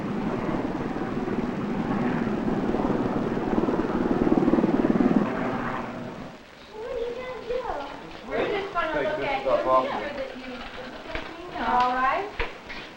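Loud helicopter rotor noise thumps steadily for several seconds as a helicopter lands in a hospital parking lot in Santa Paula, then cuts away to people talking.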